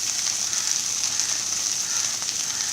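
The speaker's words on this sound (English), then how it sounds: "frying this okra" Sliced okra frying in oil in a pan over a medium flame gives off a constant bright sizzle with faint crackles, close and steady throughout, no voices.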